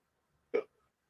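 A single short hiccup, close and fairly loud, standing alone against near silence.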